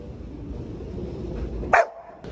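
Indoors, a dog gives a single sharp bark, loud and close, against a low room hum.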